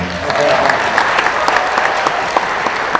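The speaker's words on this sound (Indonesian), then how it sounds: "Tepuk tangannya juga boleh diperkeras" Applause fills a hall at a regional PKS party assembly in West Java, a steady crowd clapping with a few sharp individual claps standing out, and faint voices mixed in near the start.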